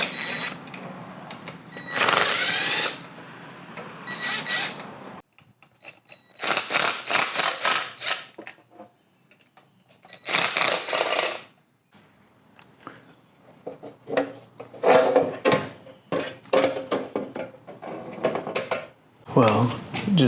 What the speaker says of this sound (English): So I guess we're taking the valve cover off and see if we can figure out what's going on.